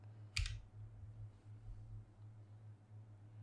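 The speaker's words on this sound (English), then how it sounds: "So you can click on F5 or the number 5 key on your keyboard." A single computer keyboard key, F5, is pressed once with a sharp close click early on, followed by quiet room hum.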